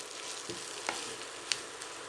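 Burger patty ingredients sautéing in a pan, a steady close hiss of frying with a couple of soft stirring taps, no talk.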